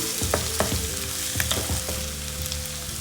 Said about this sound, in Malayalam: കറിവേപ്പിലിടാം. നല്ല മൂത്ത് വരട്ടാം.